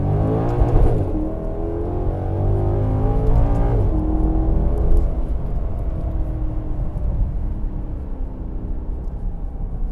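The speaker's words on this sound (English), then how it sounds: "Sounds fantastic with that Ferrari motor." A 2015 Maserati GranTurismo MC Sportline with a Ferrari-built engine accelerates at full throttle in sport and manual mode, its engine note rising loudly through the gears with audible shifts, close up, no talk.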